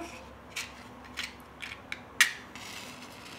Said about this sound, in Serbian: Sada će mi trebati šibica